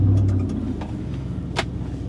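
A 1999 Chevrolet Silverado engine idles steadily nearby, a low continuous rumble with faint ticking and one brief higher click partway through, no talking.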